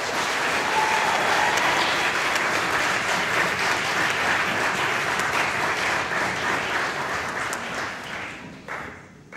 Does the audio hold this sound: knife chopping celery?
no